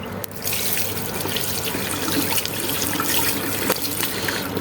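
Hot water runs from a tap in Oman, a continuous close gushing splash filling a basin steadily without pause, no one speaking.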